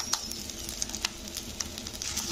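Katla fish roe frying in hot oil gives a steady bright sizzle with irregular small pops and crackles, close and moderately quiet, with no voices.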